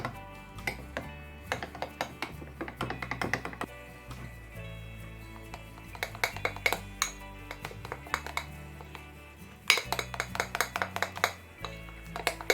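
A utensil clinks and scrapes against a bowl while tuna pie filling is stirred, producing irregular rhythmic taps and rattles that pause briefly and then resume more vigorously, with no talking.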